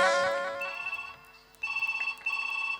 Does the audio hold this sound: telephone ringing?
yes